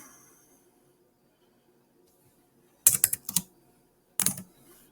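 Short bursts of typing on a computer keyboard, two quick clusters of key clicks separated by a pause, close and fairly crisp against an otherwise quiet room.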